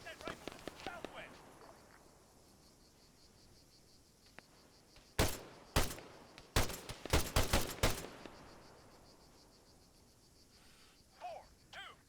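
Squad gunfire at a rifleman in the Arma 3 video game, several loud sharp rifle shots in an irregular burst mid-clip over a quiet outdoor background with insect-like chirping, with shouted voices at the start and end.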